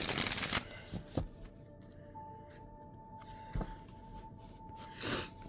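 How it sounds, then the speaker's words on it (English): Tarot cards being riffle shuffled by hand, with several quick, crisp bursts of fluttering card slaps separated by quieter pauses, heard close up in a quiet room. "I can shuffle them normally, comfortably, and still do my riffle shuffling and bridge"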